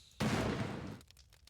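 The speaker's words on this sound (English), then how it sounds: "Gas explosion." A gas explosion in the video game Honkai Kingdoms: a sudden loud, close blast that rumbles and decays over about a second, leaving faint scattered ticks behind.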